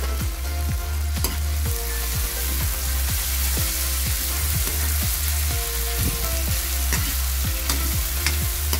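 Small diced potato cubes sauté in a pan with a loud, steady sizzle, while a regular scraping stir repeats about every half second, close up and with no talk.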